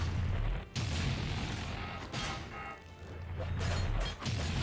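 Heavy melee blows landing on an enemy in the platformer video game Trine 5, a string of loud thudding impacts and crashes over rumbling game music, several hits spaced about a second apart.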